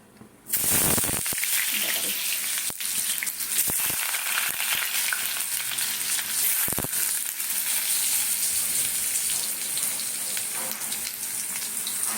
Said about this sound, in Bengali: এবারে এখানে তেলটা চাপিয়েছি এবার আমি আলুগুলোকে প্রথমে ভাজবো